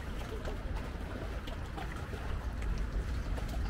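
Soft water lapping along the Stockholm waterfront at Norr Mälarstrand on a rainy day, a steady low wash with faint splashes near moored boats, no talking.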